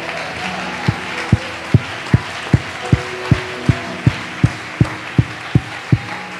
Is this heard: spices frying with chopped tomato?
no